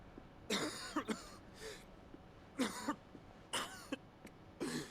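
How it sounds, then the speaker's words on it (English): A Final Fantasy XVI character coughs up blood in several harsh, wet bursts spread across a few seconds, each fit a cluster of two or three coughs with a throat-clearing quality, heard fairly close with no talk. "And he's coughing up blood."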